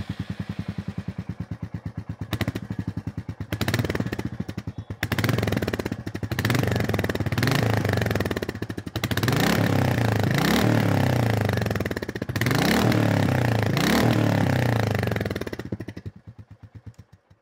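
A Royal Enfield Goan Classic 350 motorcycle thumps loudly at close range, its single-cylinder idle broken by several sharp throttle blips that rise and fall, before the engine cuts and fades out.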